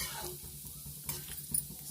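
Ground spices, including fennel and ginger, being stirred and roasted in a pan, with soft scraping strokes over a faint sizzle and a few light metallic clinks.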